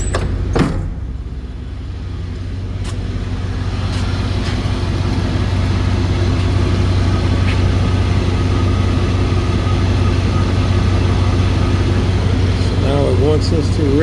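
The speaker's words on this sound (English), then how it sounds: "Let's turn our blower on. Have our blower on." A 2001 GMC Yukon with a stalling problem runs its cabin blower fan, a steady loud whoosh layered over the low idling engine hum, continuous throughout with a faint click near the start.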